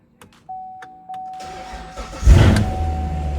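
A C7 Corvette V8 running on an E85 flex fuel kit whirs through a few short starter cranks and a steady tone, then catches with a loud burst and settles into a close, rumbling idle.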